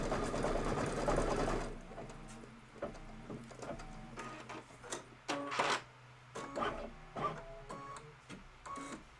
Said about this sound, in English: this is going to be 6 minutes of stitching